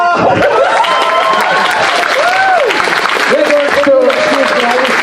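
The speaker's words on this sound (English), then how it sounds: "Give a round of applause for..." Applause and cheering from a fan-convention audience at a charity event, loud and steady throughout, with whistles and voices mixed into the dense crowd noise.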